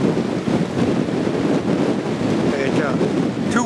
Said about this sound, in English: It's too windy to film.